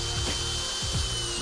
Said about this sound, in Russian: Первым делом просверливается отверстие для самореза в металлическом профиле